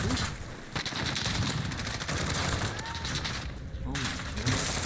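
Rapid automatic M4 rifle fire in Call of Duty Warzone, dense sustained bursts with brief gaps, loud and close, mixed with game ambience.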